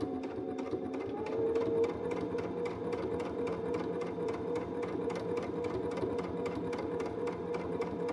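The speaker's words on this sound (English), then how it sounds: "we're going to stitch down this side real close to the edge so that it doesn't come" A sewing machine stitching close to the edge of a long piece of fabric for a party dress, a fast, even, continuous mechanical clatter heard up close with no talking.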